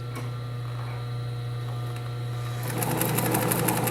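Sewing machine running steadily over a basic lock-stitch seam, a constant close mechanical whir over mains hum that grows louder and faster toward the end.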